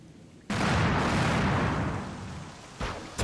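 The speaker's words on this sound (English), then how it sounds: "These are the double pistols. They shoot fast and are accurate" Double pistols fire in the video game Slayers X as a loud, dense burst of shots that tails off and is followed by a shorter second burst.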